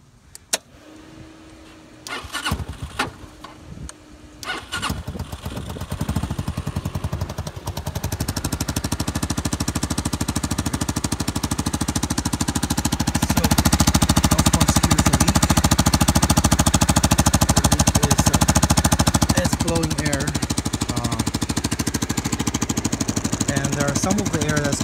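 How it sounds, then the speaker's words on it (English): A 1998 Yamaha Majesty 250 (YP250) maxi scooter engine starts after a few short clicks and settles into a steady, loud idle, rising slightly midway, close to the microphone with no talk. "So let's start the bike and try to hear the sound. The bike also starts almost instantly."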